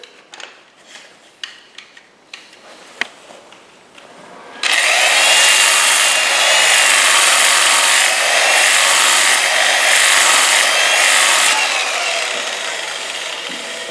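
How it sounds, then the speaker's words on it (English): A power sander works a wooden bowl at 100 grit, starting after a few light taps and knocks, then a loud, steady abrasive whir holding for about nine seconds before easing slightly. "Now for me, I power sand just enough to get the tear out and the tool marks out."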